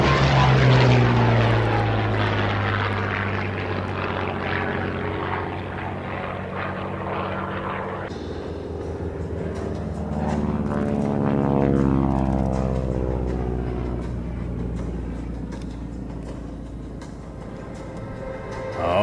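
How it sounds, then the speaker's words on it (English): Corsair and Tomahawk warbird propeller planes fly past in a loud, sustained engine roar that rises and falls as the aircraft approach and pass, with pitch shifting noticeably midway and no talk over it. "here come the Corsair and the Tomahawk."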